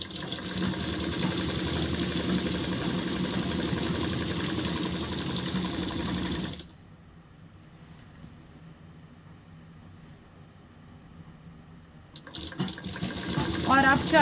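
A sewing machine runs in a steady, fast whir while stitching two salwar pieces together, stops for several seconds, then starts up again close by.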